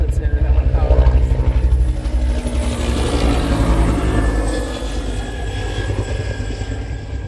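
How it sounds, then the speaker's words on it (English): Military helicopters passing overhead, a loud continuous rotor thump and engine roar that stays strong throughout and fades slightly toward the end, with a voice talking beneath it. "Oh, I think those are military helicopters."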